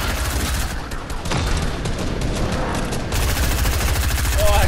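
Dense, rapid video-game gunfire from a squad shooter with a helicopter, bursts of shots overlapping continuously and loudly throughout, with players talking over the action.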